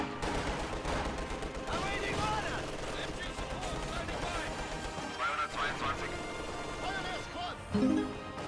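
DP machine gun and PTRS anti-tank rifle fire in a wartime strategy game, bursts and heavy cracks mixed with crashes and battle clutter, with a voice talking over the gunfire throughout.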